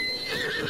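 A horse in Breath of the Wild gives a single close, clear neigh, a wavering whinny that carries over the whole brief moment with no talk.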